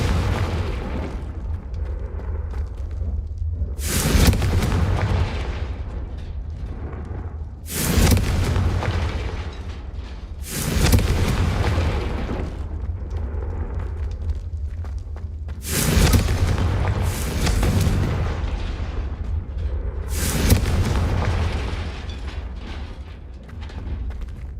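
Confringo blasting spell explosions in the video game Hogwarts Legacy: a series of heavy booming blasts at irregular intervals, each with a loud thump and rumbling decay, over continuous loud game ambience.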